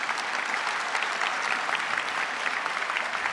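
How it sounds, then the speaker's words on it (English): Graduates at a George Brown College convocation ceremony applaud in a large hall, a broad, continuous wash of many hands clapping at once, steady and fairly loud throughout with no talking over it. "Give yourself a round of applause"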